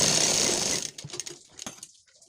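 A sewing machine stitches a blouse lining in a fast, steady whirring run that stops abruptly partway, followed by a few faint clicks and handling sounds.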